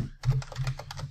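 A computer keyboard typed on in a quick burst of several close, soft key clicks, with faint speech in the background.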